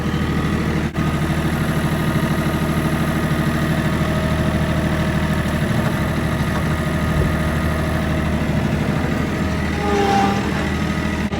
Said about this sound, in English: It's been a good little tractor.